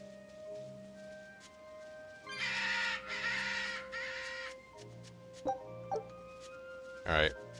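Crows caw repeatedly in the fantasy game Tales of Berseria: a few loud, harsh calls rise over steady game music and ambience, with a sharp final burst near the end.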